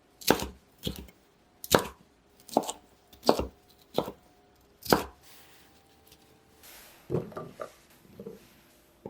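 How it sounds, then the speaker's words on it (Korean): Knife cutting bell pepper into small squares on a cutting board: crisp, sharp chops about once a second, then a quicker, softer flurry of cuts, close and clear with no talking. "파프리카는 작은 네모 모양으로 써세요."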